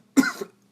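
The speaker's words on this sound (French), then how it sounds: "c'est le sable du désert de Sakir qui vous fait tousser" A single short, sharp human cough up close, one burst with a brief tail, alone in otherwise quiet air.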